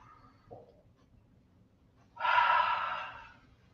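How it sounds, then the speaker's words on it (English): A single deliberate breathing-exercise breath: a faint short intake early on, then a strong, close forceful exhale lasting over a second before fading, with no talking. "That is 3 simple breathing exercises that you want to do to just warm you up"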